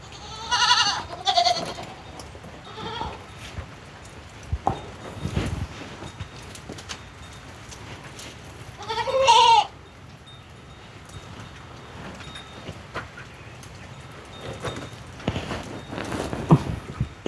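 Goats bleat from a livestock pen on a farm, two loud nearby calls a few seconds apart amid quiet outdoor background and scattered small knocks.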